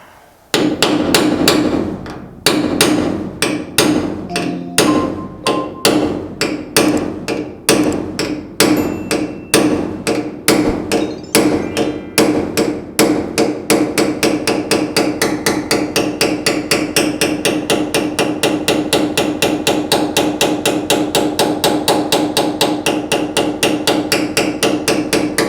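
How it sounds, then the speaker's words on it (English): Rapid, steady hammer blows ring on the sheet metal of a Pontiac GTO restomod's deck lid, close and loud, speeding into a fast even rhythm that continues without pause. "start hammering"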